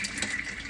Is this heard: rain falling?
no